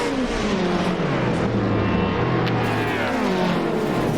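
Race cars roar and accelerate together off the start line at Imola in Assetto Corsa, a loud, dense wall of engine noise with rising and shifting revs from several cars close by.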